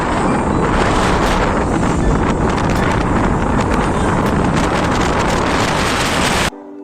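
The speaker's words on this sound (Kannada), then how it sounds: "ಸಿಕ್ಕಾಪಡಿ ಗಾಳಿ ಅಂದ್ರೆ ಸಿಕ್ಕಾಪಡಿ ಗಾಳಿ ಅದ" Strong wind roars through an open panoramic car sunroof, a loud, steady buffeting rush with microphone wind noise that cuts off abruptly near the end.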